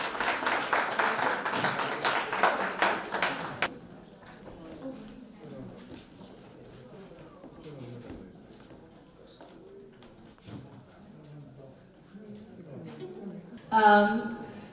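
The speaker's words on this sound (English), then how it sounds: "I think that deserves a round of applause" An award-night audience breaks into a few seconds of lively applause, dense and close, which then fades. Quiet speech and room noise follow, ending in a short loud burst.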